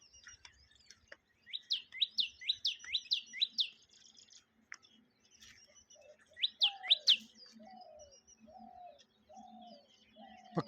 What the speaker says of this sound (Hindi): चित्र में आप आवाज़ सुनेंगे इस्माल बया प्रजाति के